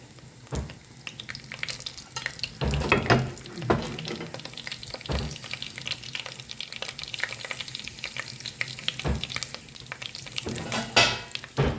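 Curry leaves dropped into hot oil for a village-style paarai fish curry, where mustard and fenugreek seeds already fry; a steady close crackling sizzle with sharp spattering bursts and stirring scrapes, no voices.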